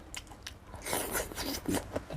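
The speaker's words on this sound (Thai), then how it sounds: "ผักลวกนี่กรุบกรุบกรอบกรอบเองนะ" Close, crisp crunching and biting, someone chewing crunchy blanched vegetables with several distinct crisp bites, fairly quiet.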